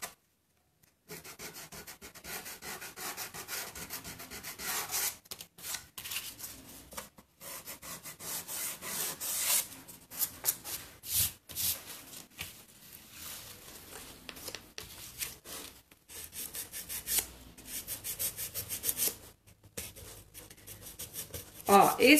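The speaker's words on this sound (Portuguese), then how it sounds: "Se ele colar, você dá uma enroladinha na lixa e faz assim" Rolled-up sandpaper sanding the edge of a painted document box, heard as a series of close, scratchy rubbing strokes in quick bursts with short pauses between them.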